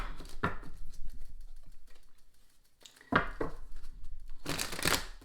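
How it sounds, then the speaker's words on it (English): A deck of cards is shuffled in a few quick riffling bursts, crisp and close, with pauses between them and no talking. "Now, I like a good shuffle"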